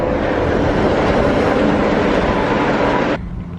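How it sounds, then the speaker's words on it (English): A Walt Disney World monorail rushes past close by with a loud, steady rumble and wash of noise for about three seconds, then drops away sharply to a quieter hum. "and another monorail"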